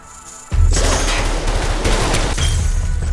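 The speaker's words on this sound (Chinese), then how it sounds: "在一番激烈的枪战后" Dense gunfire in a movie gunfight, a sudden burst of rapid, overlapping shots that roars loud and continuous after a brief quiet start, with no voices.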